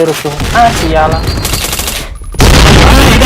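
Loud, rapid gunfire in the video game Point Blank, rattling bursts of machine-gun-like shots with a brief gap, over game sounds and a voice speaking.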